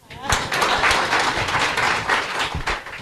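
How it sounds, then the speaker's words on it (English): An audience at an East African youth agri-food trade fair and expo claps in a brief, moderately loud burst of mixed hand claps lasting a few seconds. "Clap for me."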